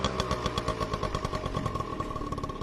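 A newly bought scooter engine runs close by with a steady rapid putter and light mechanical clatter, loud and alone without talk.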